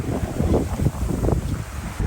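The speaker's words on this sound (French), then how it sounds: "Et donc là, on va prendre un bateau" Steady rumble of a boat engine in the Everglades with wind buffeting the microphone, continuous and fairly close, no voices.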